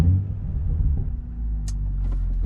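A BMW M235i engine with an aftermarket exhaust starts, rumbling low and deep, settling into a throaty idle with faint clicks above it; close and fairly loud.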